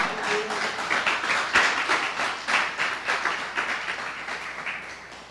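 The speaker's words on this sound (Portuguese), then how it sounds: "Você pode aplaudir ao Senhor com o seu melhor" A church congregation applauds during a Portuguese-language service, with a steady, moderately loud mass of clapping that swells in places and slowly thins toward the end.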